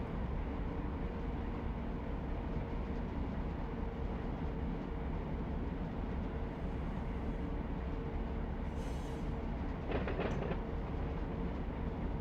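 Two locomotives rumble along in the Run 8 train simulator, a steady, dense rolling drone with a brief burst of metallic clatter near the end.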